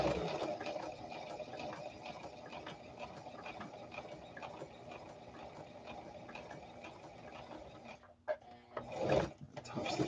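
Sewing machine running steadily while top stitching a coverall collar up to its corner through thick layers of fabric, a continuous mechanical whir with a brief pause and a few louder clunks near the end.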